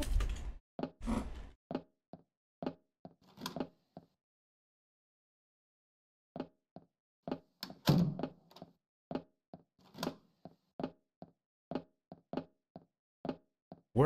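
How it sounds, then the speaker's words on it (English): Door opening and closing in a horror video game, heard as a series of short, sharp knocks and thunks spaced in an irregular rhythm, with a brief silent gap in the middle and no talk over them. "Why do I keep hearing a door open and closing?"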